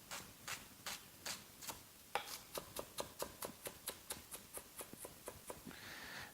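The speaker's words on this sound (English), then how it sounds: "So let's just chop this up." A medium onion finely diced on a cutting board: a steady run of quick, crisp knife chops, a few spaced strokes followed by a faster regular rhythm, close and fairly quiet, with no voices.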